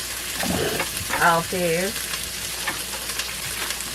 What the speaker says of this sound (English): it's gonna be like 4 minutes of sizzle per side on these